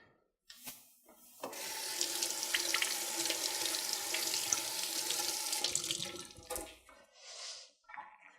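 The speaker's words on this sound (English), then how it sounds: "I need to wash it before cutting." Green chilies for a fish curry are washed under a running kitchen tap, with a steady gush of water for several seconds followed by drips and handling sounds.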